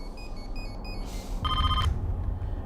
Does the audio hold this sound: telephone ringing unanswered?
yes